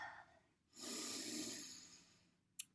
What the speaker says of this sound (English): So let's take a deep breath.